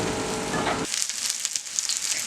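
Steak and potatoes fry in a pan, giving a bright, crackling sizzle with popping spatters, following a short muffled rumble at the start.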